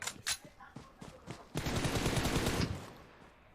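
Rapid automatic gunfire in the mobile battle royale game PUBG Mobile: scattered single shots, then a loud sustained burst of fast shots lasting about a second, ending in quieter sporadic firing.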